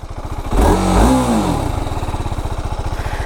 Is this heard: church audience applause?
no